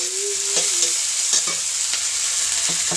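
Tomato and finely chopped ginger sizzle in a pan of oil, with a constant loud hiss broken by several clanking stirs of a spatula, and no talking.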